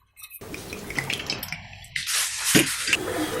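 Avocado oil poured from a bottle for a chicken dish, a gurgling, dripping liquid stream that starts abruptly and thickens into a louder splashing pour, close up and without voices.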